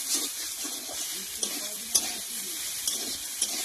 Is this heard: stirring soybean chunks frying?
yes